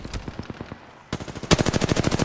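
Rapid bursts of automatic gunfire in the video game Final Fantasy XVI, loud, close and rhythmic, with a short pause before a faster, denser volley.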